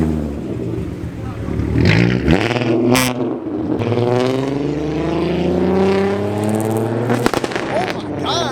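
At a car meet, a car engine revs hard in repeated rising, roaring pulls close by, with crowd noise and a sharp pop among excited voices.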